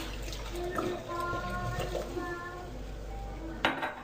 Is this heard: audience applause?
no